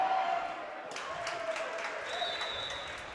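Crowd in the pit at a high school basketball game breaks into applause and cheering, a spread of claps and voices rising after a quiet start and carrying on with a faint squeak.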